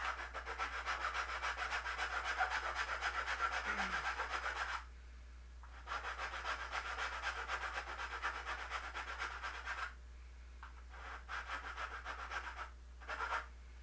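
Rhythmic rasping strokes of a flat file scraping against a cosplay staff shaft, continuous and close, with a couple of brief pauses.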